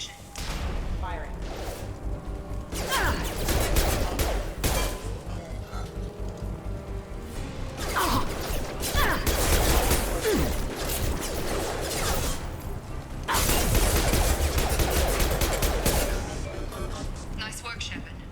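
Sustained gunfire from hostile security mechs in a sci-fi shooter, long dense bursts of shots with blasts and impacts layered over a constant battle rumble, loud and close, with spoken dialogue mixed in at times.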